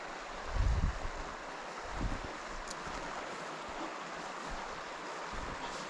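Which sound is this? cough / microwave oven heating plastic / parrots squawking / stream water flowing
stream water flowing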